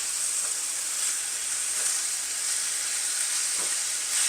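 Peppers and onions frying in a skillet for sloppy joes give a steady, close hiss of sizzling fat that runs without a break, with no voices.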